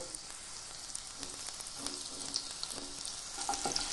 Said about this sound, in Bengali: মশলা মেখে রাখা সয়াবিনগুলো এখন তেলের মধ্যে দিয়ে দেব।